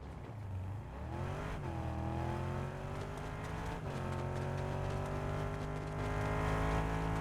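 A vehicle driving in Fortnite gives a loud, close engine drone. It revs upward, drops briefly at gear shifts, then climbs again into a steady, rising whine.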